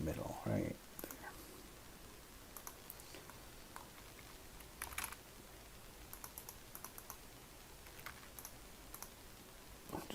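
Scattered computer keyboard keystrokes and mouse clicks while drawing in CAD, light irregular taps close by in a quiet room, with a brief bit of speech near the start.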